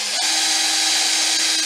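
A power drill countersinks holes in a canjo neck, its steady high whine running continuously and close up with no talk.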